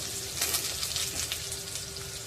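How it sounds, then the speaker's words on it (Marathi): Garlic, a crushed chili and a few curry leaves fry in hot oil in a pan over a medium flame, giving a continuous bright crackling sizzle with small popping bursts. It sounds close and even, with no talking. "लसूण परतून झालेला आहे एक मिरची घालूया ती सुद्धा टेचून घातलेली आहे चार पाच पानं कढीपत्तेची घातलेली आहे"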